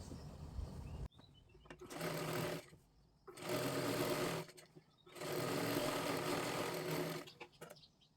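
A sewing machine runs in three sustained bursts of stitching on a katori blouse, with brief pauses between, close and steady, with a faint voice at the very start.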